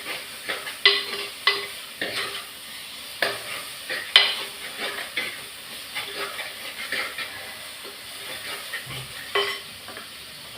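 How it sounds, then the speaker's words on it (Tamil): Garlic and spices frying in oil in a pan for garlic kulambu, with irregular stirring scrapes and soft sizzling, moderately close, no talk. "எல்லாம் நல்லா வதக்கணும்"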